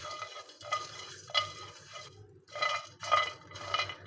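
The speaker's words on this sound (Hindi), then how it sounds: "मसाला जार जो है वो इसमें डालेंगे और चूल्हा हम हल्का ही रखेंगे और इनको हल्का सा रोस्ट कर लेंगे।" Whole spices from a masala jar dry-roasting in a pan over a low flame, with soft scraping and stirring in uneven bursts and a faint, quiet sizzle, close by with no talk.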